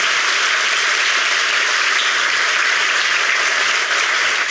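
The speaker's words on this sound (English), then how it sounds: "please just give them one more round of applause for sharing their words with us tonight" Sustained audience applause fills a dinner event hall, dense and steady throughout with no talk over it.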